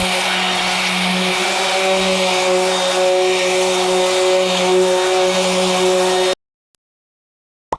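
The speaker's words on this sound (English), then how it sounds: "I'm gonna finish out the day with a little bit of sanding." A steady, loud mechanical whine of a power sander on wood runs continuously, then cuts off abruptly, leaving near silence.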